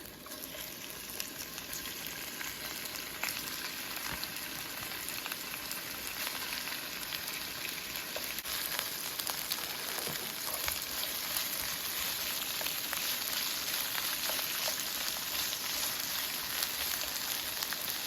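Shrimp frying in a hot pan, a dense, even sizzle that holds steady and fairly loud with no pauses, like a constant hiss of oil.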